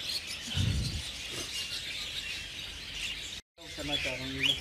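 Cockatiels and red-eyed budgies in a breeder's aviary setup give faint, scattered chirps and tweets over a background hiss, with a brief low voice and a short dropout near the end.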